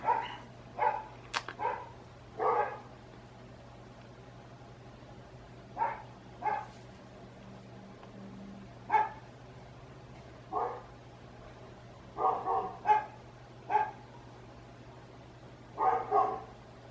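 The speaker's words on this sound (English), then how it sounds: "every dog in the neighborhood's got a bark" Several neighborhood dogs bark in scattered bursts of single barks and short doubles, moderately distant, over a steady low hum, with no one talking.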